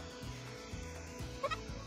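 Bird calls from a Minecraft mod video game, a kingfisher among them: short repeated chirps and warbles, fairly faint over a background of game sounds, with a brighter burst near the end.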